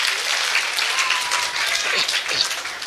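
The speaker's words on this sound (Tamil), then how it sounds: "அவங்களுக்கு நம்ம ஒரு பாராட்டு" Audience applause at a summer class closing ceremony in Salem, a full, steady round of clapping from a crowd that carries on without a break.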